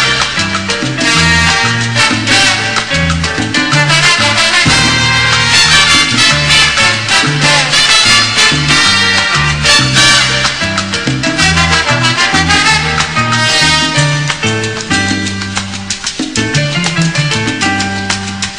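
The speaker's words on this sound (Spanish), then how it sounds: "Música sacada de vinilos." Recorded song played back from a vinyl record, with a full band mix of steady rhythm and layered harmony running loud and continuous throughout, no talking over it.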